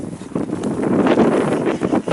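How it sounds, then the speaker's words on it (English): Wind gusts across the microphone on a ranch trail in Pinnacles National Park, a fairly loud, uneven low rumble with brief swells and faint rustling, no one talking. "It's a little windy today."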